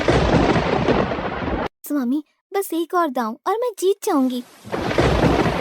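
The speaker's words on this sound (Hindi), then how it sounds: "स्वामी, ये बिना मौसम की गरजती हुई बारिश हमें क्या संकेत देती है?" Loud rumbling thunder with heavy rain roars close by, breaking off while a young-sounding voice speaks a short line, then crashing back in, during an untimely storm in a cartoon folk tale.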